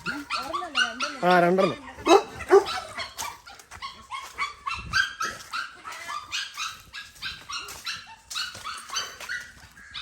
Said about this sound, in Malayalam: ഇവിടെ ഒരു പട്ടിയുണ്ട് കേട്ടോ